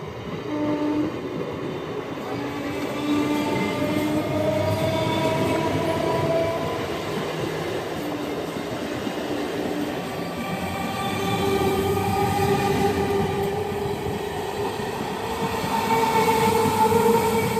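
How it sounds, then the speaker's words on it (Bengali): The Howrah-Bardhaman down local train rolls through Memari station, its wheels rumbling continuously with repeated high metallic squeals rising and falling as the carriages pass nearby. "ট্রেনটি হচ্ছে ডাউন হাওড়া বর্ধমান লোকাল।"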